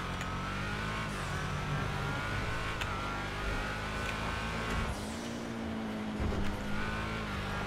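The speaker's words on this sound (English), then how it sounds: "A little bit of turbo noise there." Turbocharged hot rod car engine in GTA Online, a steady droning rumble with revving swells and a faint turbo whine, close and continuous, no talking.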